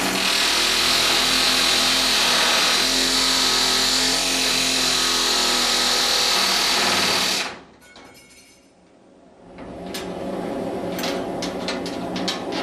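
A pneumatic hammer hot-rivets ship plates, giving a loud, continuous rapid-fire rattle that stops abruptly, then leaves a duller workshop din with scattered metallic knocks.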